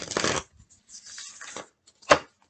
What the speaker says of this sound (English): I just heard, I'll shuffle less.